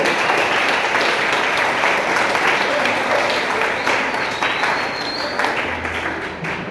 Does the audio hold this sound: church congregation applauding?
yes